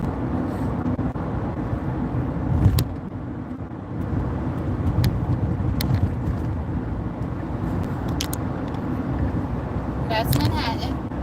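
A car moves through packed Manhattan traffic, heard from inside as a steady, close road and engine rumble with a few brief louder bumps and faint background sounds.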